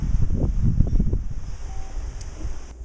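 Low, gusty wind buffets the microphone outdoors, rumbling loudest in the first second and easing to a steady blustery roar.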